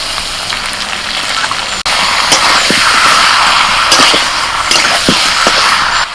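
Large chicken pieces fry with onions in a pan, giving a steady, loud broadband sizzle with occasional sharp ticks and scrapes from stirring.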